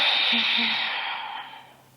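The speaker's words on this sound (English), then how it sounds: "Breathe in and exhale" A slow, close breath out during an exercise routine: a steady airy hiss that fades away over about two seconds, alone with no talking.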